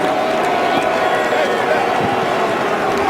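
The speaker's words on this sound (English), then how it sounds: "there are some boo birds here in New England" A stadium crowd at an NFL game between the Eagles and the Patriots in New England boos steadily at halftime, a broad, sustained wash of crowd noise heard under a commentator's voice.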